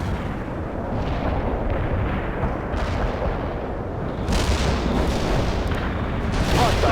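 Artillery strike explosions in the war video game World in Conflict, a dense continuous barrage of booming blasts and rumbling gunfire filling the whole stretch at steady high loudness, with heavier bursts swelling near the end.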